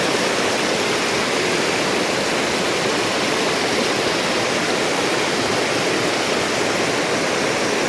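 Strong current of the river at Batong Buaya: a dense, unbroken rushing roar of fast water, loud and close, holds steady throughout with no voices.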